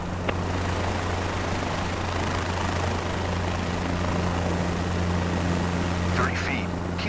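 Helicopter in Microsoft Flight Simulator, hovering low over a runway at about 30 feet and 45 knots, giving a steady, loud rotor and engine drone with a constant low hum throughout. A brief higher rattle comes near the end.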